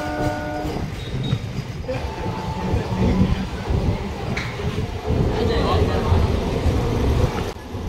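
A local train rolls slowly over a bridge, a steady low rumble and clatter of wheels with a brief horn early on, heard from aboard the carriage throughout.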